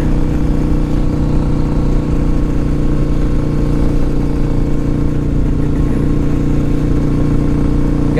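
A 2005 Kawasaki Vulcan 800 Classic motorcycle engine runs with a loud, steady, close rumble, holding an even idle-like drone throughout with no talk over it.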